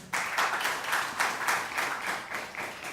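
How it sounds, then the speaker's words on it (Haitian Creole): Applause from an audience at a live event, a steady patter of many hands clapping at moderate distance for a few seconds, fairly soft and even throughout. "Sur vos applaudissements"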